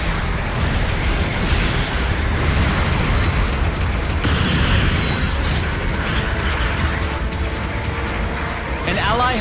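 A destroyed enemy mobile suit blows up in a mecha battle game, a dense, sustained rumble of blasts and crackling debris that stays loud throughout with a brighter burst midway.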